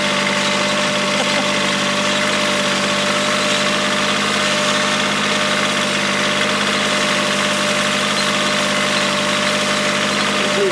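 A motor grader's steady diesel engine idles nearby with a constant low rumble and faint mechanical vibration, running unchanged throughout with no voices.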